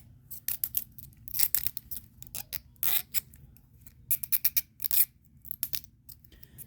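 Arm joints of a bootleg Yamaguchi-style Carnage action figure being worked: clusters of sharp plastic clicks and ratchets, close and fairly loud over a faint background hum.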